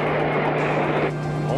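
A cartoon airplane engine drones steadily and close up, with a continuous roar and a low hum that hold at an even level throughout.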